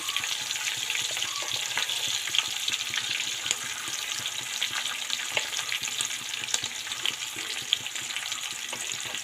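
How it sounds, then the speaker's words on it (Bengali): Onions fry in a pan with a constant close sizzle and crackle, scattered sharp pops and occasional stirring scrapes, moderately quiet and without speech. "তো প্রথমে আমি পেঁয়াজটা একটু ভেজে নেবো"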